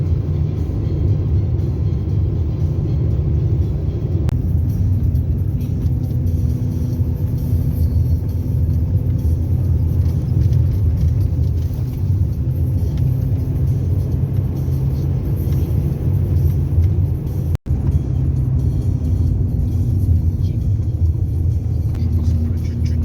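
A car creeps up the icy Solonovsky mountain pass road, giving a continuous low engine-and-tyre rumble that stays even and close for the whole stretch, broken once by a brief sharp click.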